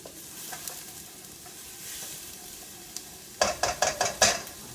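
Onion and garlic sautéing in a pot for marinara sauce, a soft steady sizzle that gives way near the end to a quick run of loud scraping stirs against the pot.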